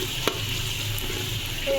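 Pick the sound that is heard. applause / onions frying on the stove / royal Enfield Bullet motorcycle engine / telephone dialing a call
onions frying on the stove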